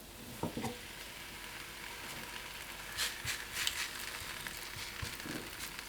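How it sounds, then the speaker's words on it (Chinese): Raw dough flatbread, an egg-filled pancake, sizzles in a thin layer of hot oil in a flat frying pan, a steady close crackle with a few brighter spatters and no voices. "油热以后放入生坯"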